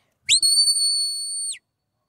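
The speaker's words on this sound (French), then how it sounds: "chaque ordre est aussi assemblé à un coup de sifflet" A single sharp, high-pitched shepherd's whistle command to a herding dog, held steadily for over a second, loud and close, then cut off cleanly, with no talking.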